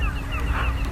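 Ducks and seabirds by the sea on a foggy day, with a short run of goose-like honking calls over steady low wind and water rumble.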